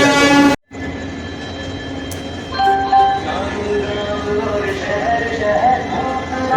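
A train pulls into a station with a heavy rolling rumble of wagons, sustained horn-like tones and occasional metallic clanks, all loud and close throughout.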